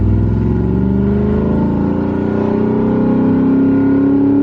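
A Lexus IS350 running open headers accelerates with a loud, deep, raspy engine note that climbs steadily in pitch, heard close up from inside the car with no talking.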